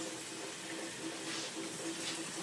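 Water runs steadily from a kitchen tap over squash in a colander, a soft, continuous splashing hiss at low level.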